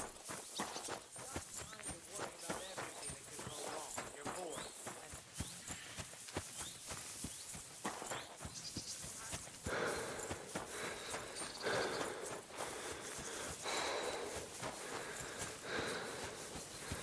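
Horse hooves clip-clop in Kingdom Come: Deliverance 2, steady rhythmic clopping amid game ambience and other movement, heard at moderate distance with faint background voices.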